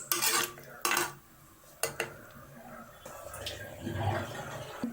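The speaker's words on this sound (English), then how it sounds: "Now stir the rice." Soaked basmati rice is stirred in a pressure cooker, with several sharp metallic knocks of a utensil against the pot and softer wet scraping and sloshing between them, close but fairly quiet.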